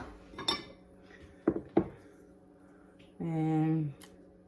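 A spoon is picked up, with a few short metallic clinks of cutlery against dishes, separated by pauses, then a brief sustained tonal sound near the end.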